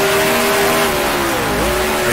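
A 1966 Formula One race car in Grand Prix Legends, its loud engine holding a steady high whine before dropping sharply in pitch through two quick downshifts into a corner.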